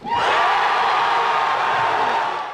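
A loud crowd cheers and whoops at a high school football national signing day event, a sustained roar of excited voices filling the space for a couple of seconds.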